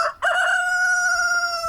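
A rooster crows once, a loud, sustained, close call that holds its pitch for over a second.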